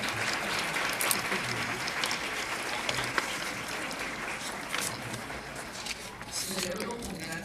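Audience at a regional conference on population and development clapping steadily throughout, a dense, even applause from a crowd in a large hall, with a voice faintly beneath it.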